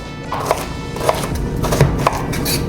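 Knife chopping root vegetables such as carrots on a cutting board for a steak and vegetable hash, sharp regular thuds about every half second, close and loud, with no talk.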